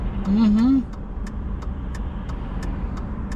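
Car traffic on a city road in Minot, North Dakota, heard from inside a moving vehicle: a steady engine and road drone runs throughout, while a voice speaks briefly over it near the start.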